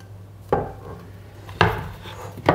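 A frying pan is turned over onto a round of bread, giving three distinct knocks at roughly one-second intervals. They sound like hard pan and wooden board contact, close and moderately loud, with no talk.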